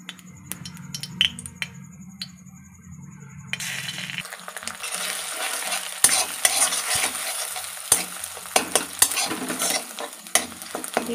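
Egg frying in oil in a wok for egg chow mein, a steady bright sizzle with repeated scraping and tapping as a spatula chops and stirs it, close up after a quieter opening.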